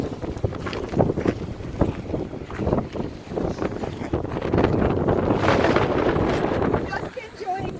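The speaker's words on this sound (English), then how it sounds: "Just enjoying the wind." Blizzard wind buffets a vehicle in strong gusts, loud and close with microphone rumble, while people talk over it.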